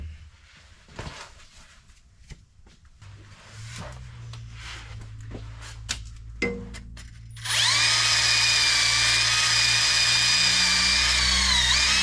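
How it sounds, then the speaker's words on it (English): A wire wheel spins up on a power tool to clean a bolt during a Mazda Miata repair. After a few quiet clicks and handling knocks, it settles into a loud, steady, high-pitched whirring grind close by. "I'm gonna grab a wire wheel to clean it up"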